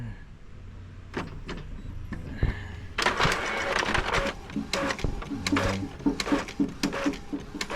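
A repaired Xerox photocopier runs a test print, with clicks and a brief thump, then a steady mechanical whir and rhythmic feed clatter, close up, while someone talks at moments.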